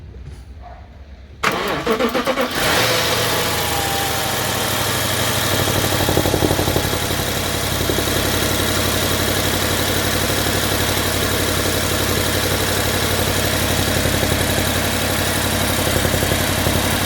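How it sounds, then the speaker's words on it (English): A 2009 BMW 750i engine cranks and fires up after a short quiet lead-in, then settles into a steady, loud, close idle that holds unchanged for the rest of the clip, with no talking. "now let's start the vehicle and see if it's leaking or not."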